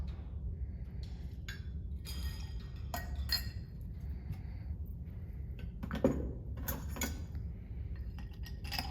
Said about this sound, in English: We're going to stir the bourbon just to chill it a little bit.